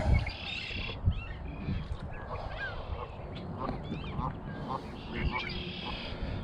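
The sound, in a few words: geese honking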